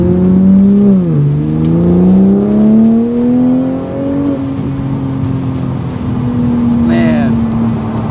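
A Toyota Supra's exhaust drones in a loud, steady low note that dips briefly, then climbs and holds as the engine revs gently.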